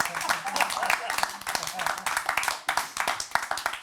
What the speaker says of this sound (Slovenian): Vsako vaše ploskanje je moj mini dopust.